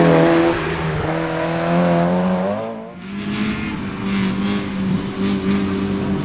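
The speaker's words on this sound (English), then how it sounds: "Stuart Clyde slides his VVT engined MX5 round to third fastest." A VVT-engined Mazda MX-5 races through a corner at a winter series sprint at Shackleton, its loud engine note falling as it slides, dipping briefly, then climbing again in a sustained buzzing rev, heard close with no talk.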